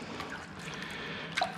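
Water trickles and drips as it is squeezed out of soaked sausage casings in a butcher's kitchen, a low dribbling with one sharper splash near the end.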